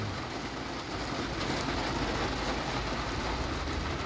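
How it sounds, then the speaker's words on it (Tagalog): Heavy rain pours steadily during a drive, a dense, even hiss and low rumble of water hitting the vehicle, continuous and moderately loud with no breaks. "sobra lakas talaga ng ulan"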